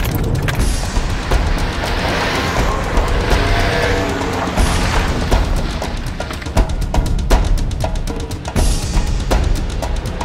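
A car tears along at speed in a Yugoslav-style action film scene, engine roaring continuously with booming impacts and tire noise, loud and close throughout, occasional sharp bursts punctuating the rush.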